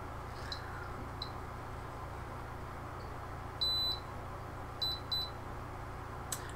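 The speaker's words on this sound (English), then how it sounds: "I'm going to push this here and you're going to hear a couple beeps" A Perfect Prime CO2 air quality meter gives a couple of short, sharp electronic beeps in a quiet room, one around the middle and a pair a little later, with no talking.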